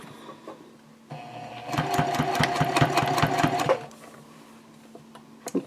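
A sewing machine stitches a key fob card pouch in a steady, rapid burst of about two seconds. Quieter handling noise comes before and after it.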